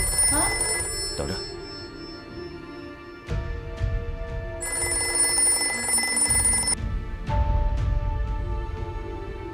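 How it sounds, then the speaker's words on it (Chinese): A telephone rings repeatedly in an office during a historical diplomatic drama, each ring a bright electronic trill set against a low background hum, with brief pauses between the rings. "怎么不接电话？"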